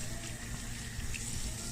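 Steady running tap water splashing into a sink as a toddler's hands are rinsed, a continuous close hiss with no pauses over the short span.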